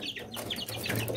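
Several chickens in a coop cluck and murmur quietly, overlapping short calls in a low, continuous chatter.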